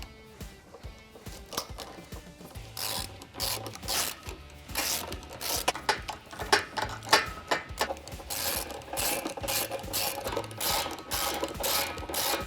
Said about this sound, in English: We're going to do that with a 12mm socket and extension to get access.